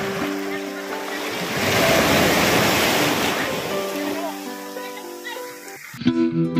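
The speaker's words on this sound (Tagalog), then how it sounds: "Gawa ng bigla na lang lumakas yung alon." Strong ocean surf rolling in near the shore, a broad rushing wash that swells and fades, with a person talking over the water noise.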